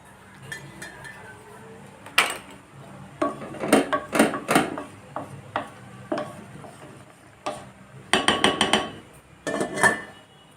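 An Amway Queen cookware pot rings with metallic clanks and clinks as its lid is handled and set in place, several close, bright knocks spread across the stretch with a quiet background.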